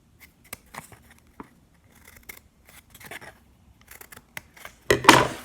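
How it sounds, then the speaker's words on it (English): Scissors snipping tabs into a cardboard paper towel roll: a series of short, crisp cuts close by, ending in a louder rustling crunch. "And then on each half, I'm going to cut 4 little tabs."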